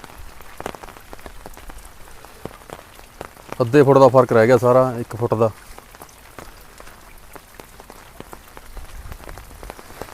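Steady rain pours over flooded farm fields with water up to the level of the upper plots, a constant patter throughout, while someone speaks for a couple of seconds in the middle.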